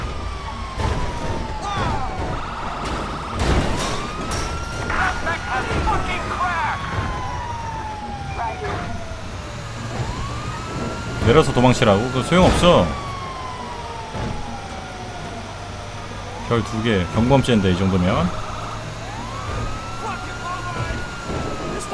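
Police car sirens in the video game GTA 5 wail and sweep up and down through a busy street scene, with engine rumble underneath and someone talking over them.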